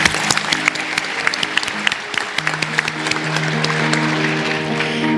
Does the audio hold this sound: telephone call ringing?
no